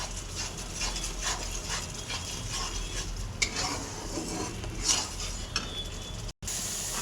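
Spices are stirred and scraped around a frying pan, with a ladle rasping rhythmically against the metal over a soft, continuous sizzle of hot oil, close and steady, with a few louder clinks and no talking.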